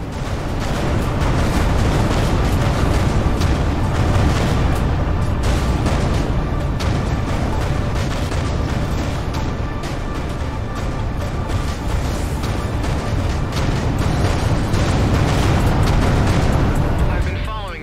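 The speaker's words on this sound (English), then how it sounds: "Vacate this area at once. Explosion imminent." A space explosion in the game Everspace 2, heard as a sustained loud roaring rumble with crackling bursts throughout, dense and unbroken before fading at the end.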